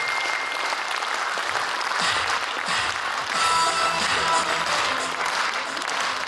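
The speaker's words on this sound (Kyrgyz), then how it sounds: "кол чаап койгула" A concert audience claps steadily to welcome a first-time performer to the stage. The applause is loud and continuous, with a few distant voices murmuring beneath it, and swells slightly near the middle.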